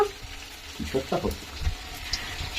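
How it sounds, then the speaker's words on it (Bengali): A masala mixture fries in hot oil, giving a low sizzle with a few bubbling, spattering bursts up close, while faint background sounds carry on beneath. "এটা এখন এই দেখো তেলের মধ্যে ফ্রাই করা হচ্ছে"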